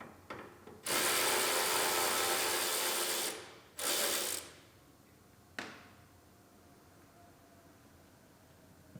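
Hood bolts on an Acura RDX with an aluminum hood are loosened and removed using a ratcheting tool, two long buzzing bursts followed by a short click, close and clear with no talking.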